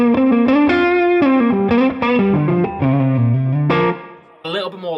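An electric guitar with a single-coil pickup plays a lead phrase through a slightly overdriven amp with a preamp boost, bright sustained notes with distortion and chorus-like shimmer, loud and upfront, ending in a brief squeal.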